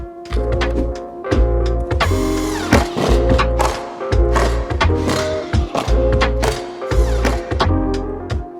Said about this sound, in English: we'll pop some screws in just to secure it in